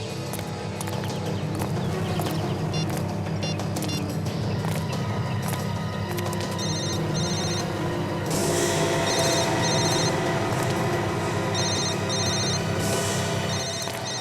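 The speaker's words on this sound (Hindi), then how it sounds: "विवेक, जरा उसको फोन लगा।" A mobile phone ringing with a repeating electronic ringtone in bursts over a steady musical drone, growing louder in the second half; no speech.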